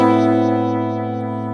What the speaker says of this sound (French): Un poil plus de reverb par exemple.